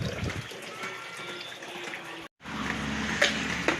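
Water runs from a tap into a bucket while doing laundry, a soft continuous splashing and trickling that cuts out for an instant and then resumes, quiet and close, with faint background voices.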